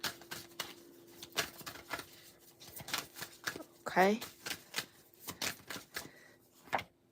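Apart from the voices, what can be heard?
shuffling tarot cards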